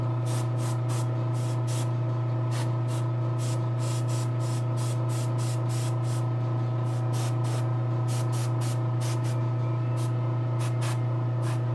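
Airbrush hissing steadily as it sprays paint onto a Giganta figure, a continuous close airy spray with short bursts pulsing on and off over a low constant hum.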